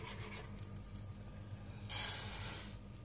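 Pearl pasta poured into melted butter in a pan, a soft rushing hiss that swells near the end and fades under steady background noise, with no talk.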